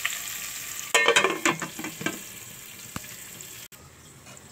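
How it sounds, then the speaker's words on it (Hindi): Tomatoes cooking in a pan on a stove over high flame, a burst of sizzling and stirring clatter early that fades to a quieter, steady hiss, with a brief dropout near the end. "टमाटर हो रहे हैं हमारे फुल चूल्हे पे, ताकि ये जल्दी से नरम होने लगे।"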